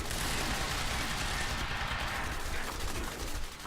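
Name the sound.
gunfire in Quantum Break video game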